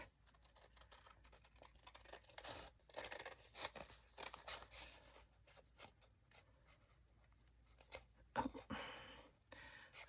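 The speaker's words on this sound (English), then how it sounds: "I'm trying to use these big scissors to cut down on time for cutting" Large scissors snip through lace fabric in quick, irregular cuts, soft and close, with short pauses between bursts of snipping.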